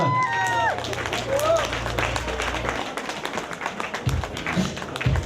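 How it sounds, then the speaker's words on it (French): Audience applause at a Renault Captur launch evening at a Renault City shop in Thionville, a crowd clapping steadily after a voice and musical tones, with scattered taps continuing to the end. "qu'on peut aussi applaudir très très fort"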